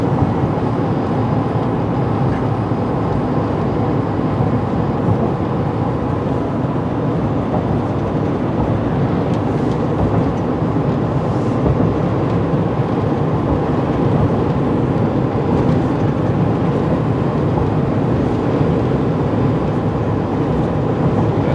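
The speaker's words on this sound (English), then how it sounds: "Hear the whole truck shaking" Inside a Chevy truck driving with a wheel vibration, a steady low rumbling drone with a constant shaking hum fills the cab, loud and unbroken throughout, with no talking.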